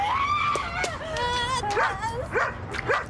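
A dog in a Japanese commercial yelping and whimpering in short, high, rising and falling cries, repeated several times at moderate loudness over a faint background.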